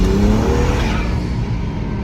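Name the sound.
BMW E82 135i turbo engine revving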